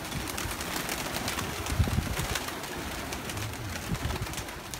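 Pigeons coo softly in a continuous, fairly faint outdoor murmur, with a few slightly louder calls rising above a steady background hiss.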